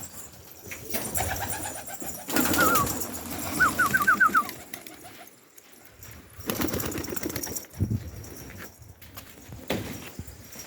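Pigeons in a loft come back inside, with cooing and bursts of wing flapping and shuffling on perches, heard close by in irregular bouts separated by quieter gaps.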